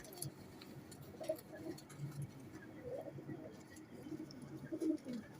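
Pigeons at a breeder's loft coo softly and intermittently, low murmuring calls scattered across a few seconds amid light rustling and faint background noise.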